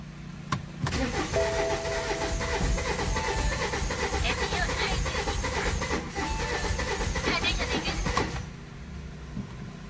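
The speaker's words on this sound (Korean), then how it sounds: "크랭킹해서 엔진 소리가 어떤지 한번 들어보도록 하겠습니다" BMW 320d diesel engine cranking without firing, the starter turning over in a steady, loud churning rhythm for about eight seconds before cutting off, close up in a workshop.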